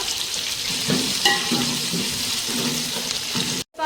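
Mustard seeds, cumin, green and dried red chillies and onion frying in oil produce a steady close sizzle with stirring clinks, breaking off abruptly near the end.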